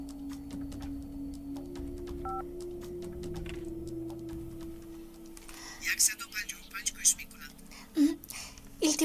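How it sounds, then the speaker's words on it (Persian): A telephone keypad is dialed, with a sequence of short beeping tones over a steady hum, followed by louder handling noises and a few clicks near the end. "من تلفن میکنم."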